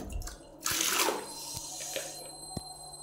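Water splashes and drips during washing with a bucket of water, a burst of pouring and sloshing followed by scattered drips and small splashes close by, with no talking.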